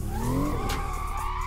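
A BMW M2 drifts at a drift park in Assetto Corsa, tires squealing loudly in a long wavering screech over the engine's rising whine.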